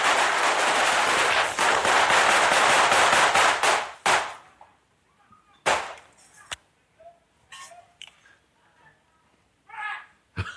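Gunshots from a played clip set in Florida crack out in a dense, rapid burst for about four seconds, followed by a few scattered loud bangs and quieter noises.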